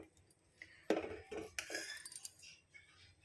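Ragi mudde, a thick finger-millet dough, is stirred in a pot over low heat, with a scraping utensil knocking and clinking against the metal pot in irregular strokes, fairly close and fairly quiet.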